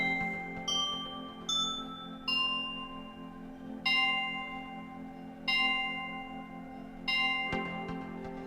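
Clock chimes built in the video game Minecraft: a series of bright bell-like tones struck one after another at irregular intervals, each ringing out and decaying, with a low steady hum beneath.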